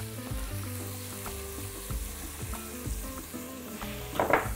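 Chicken hearts and vegetables sizzle and fry in a pan, a steady crackling hiss with occasional stirring clatters and a brief louder spatter near the end; no talking.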